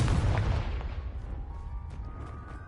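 Confringo fire spell blast in the video game Hogwarts Legacy on PS5, a single loud booming explosion up front that rumbles and fades away over a couple of seconds, with no talk.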